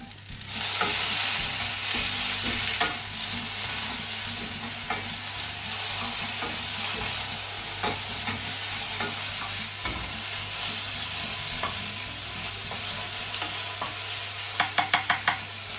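Spinach being stirred in a hot pan, a steady sizzling hiss broken by repeated scraping and stirring clatters, with a quick run of sharp ticks near the end, close and alone without talk.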